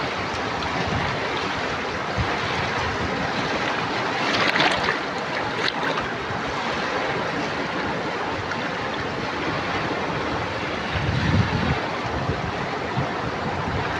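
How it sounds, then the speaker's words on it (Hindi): Rushing floodwater surges in a continuous, loud broadband roar lasting fourteen seconds, with occasional heavier splashing swells and no talking over it. "कितना पानी आ रहा है, देख रहे हो छलांगे मार रहा है पानी।"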